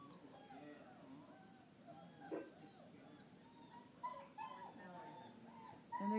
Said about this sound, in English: Puppies playing in the barn.